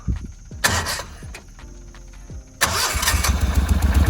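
A small boat motor with the choke on cranks over several times with sputtering pulls, then catches and roars into a loud, steady running rumble.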